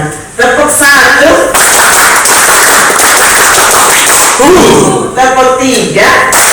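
An audience at a national mosque seminar claps together in quick unison bursts, loud and close, with brief pauses between the rounds of clapping.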